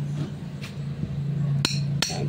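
Two sharp metallic hammer strikes ring out over a steady low hum, with a few fainter taps before them, while replacing the burnt-out motor bushing of a standard wall fan.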